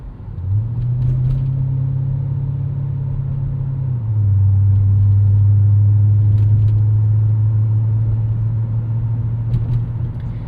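A 2003 Mercury Marauder's 4.6 liter V8 cruising at about 1500 RPM, a loud, steady low rumble heard from inside the car that drops slightly in pitch partway through and then holds, with no talking.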